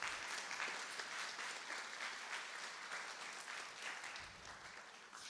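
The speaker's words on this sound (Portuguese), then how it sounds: "Eu vou pedir uma salva de palmas para essa menina que se levanta corajosamente aqui." A church congregation applauds a girl who has bravely stood up during a Sunday youth-week service, the clapping steady and fairly quiet throughout and tapering slightly toward the end.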